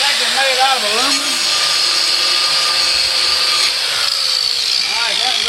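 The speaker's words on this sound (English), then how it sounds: "just grind the head off" An angle grinder bites into a soft aluminum rivet head on a tractor wheel, a sustained high whine close and loud, with a voice talking briefly at the start and near the end.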